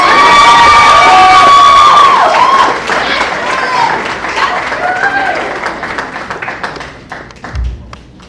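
An audience at a school co-curricular awards ceremony applauds and cheers for student leaders, loud dense clapping with shouts and whoops that gradually thins into scattered claps and dies down.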